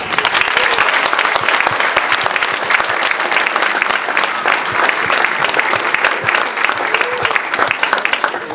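A large audience at a school show claps loudly and steadily, dense sustained applause filling the whole stretch without any talking.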